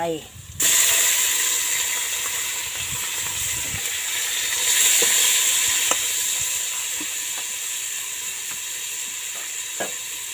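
Pork dropped into a hot pan with garlic and pepper bursts into a loud, steady sizzle and steamy hiss that carries on throughout, with occasional faint clinks of stirring and a little background speech.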